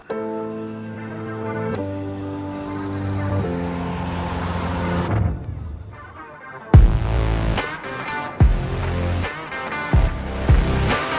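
A disliked car driven in GTA V, its in-game engine droning with rising and falling pitch, then sharp bursts and thumps as it races across a finish line and moves on, loud and up close with no talk.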